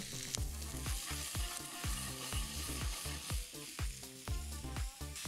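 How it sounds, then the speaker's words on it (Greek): Potatoes stirred with butter and honey sizzle loudly in a hot pan, with a utensil scraping in repeated rhythmic strokes over the constant frying hiss. "Ανακατεύουμε."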